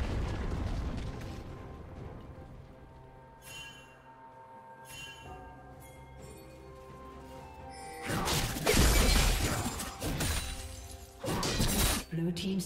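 A turret being destroyed in League of Legends, with heavy crashing and shattering bursts over game effects and music. An announcer's voice comes in between the blasts.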